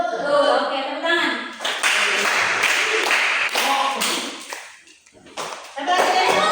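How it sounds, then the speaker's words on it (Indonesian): A class clapping hands in a rhythmic ice-breaking coding game: quick bursts of sharp claps and taps in patterned groups, mixed with voices calling out, with a brief lull before clapping resumes. "Oke, tepuk tangan."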